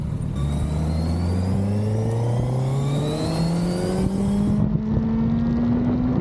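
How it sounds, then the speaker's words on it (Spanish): Suzuki Hayabusa motorcycle engine revving in first gear nearly to the limit, a loud, close engine note climbing steadily in pitch as it accelerates, with wind rush over it and no voices. "La revolucioné primera casi hasta el tope"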